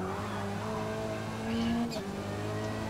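A race car engine in Forza Motorsport downshifts and accelerates out of an S corner with a rising, steady rev. It is close and continuous and builds to a louder peak midway.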